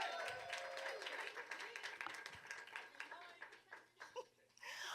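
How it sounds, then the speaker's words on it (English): Audience applause fills a hall with sharp, dense clapping and scattered laughter, while voices murmur and chatter underneath and the clapping thins out toward the end. "Can we give a round of applause to Mike?"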